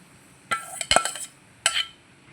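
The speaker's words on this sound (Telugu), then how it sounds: "బెల్లం దంచుకుందాం ఫ్రెండ్స్" Jaggery being pounded in a pot, heard as a few sharp metallic knocks and clinks, close by, in two short clusters separated by a gap, with no talking.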